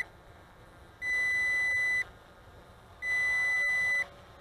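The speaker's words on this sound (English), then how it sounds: "the remote control is giving out a couple of beeps or a single beep" Two long electronic beeps, each lasting about a second and separated by a one-second gap, come from a Bayangtoys X22 drone remote control as the drone returns home, sounding clear and close.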